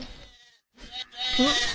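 Sheep or goat bleating in a Roblox game, heard as a short nasal bleat near the end, after a brief silence and some faint background game sounds.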